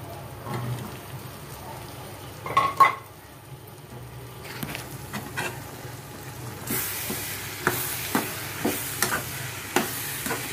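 Chickpeas stirred into oily frying masala in a pan for a dry kabuli chana dish, with soft stirring scrapes and faint sizzle, a couple of louder clanks early on, then steady crackling frying with regular scraping strokes.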